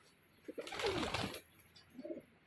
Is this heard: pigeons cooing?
yes